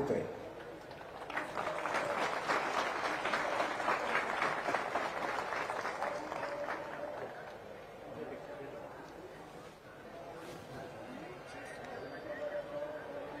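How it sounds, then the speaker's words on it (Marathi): A crowd at a political speech at Gahininath Gad bursts into loud, sustained applause and clapping that gradually fades, with talk carrying over it. "टाळ्यांचा एकच कडकडाट ऐकायला मिळाला"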